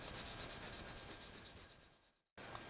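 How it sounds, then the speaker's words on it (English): A small sanding stick rubs over a wooden fishing lure crankbait in quick, even strokes, soft and close, with a brief pause near the end before a couple more light rubs. "I do the sanding with a little sanding stick."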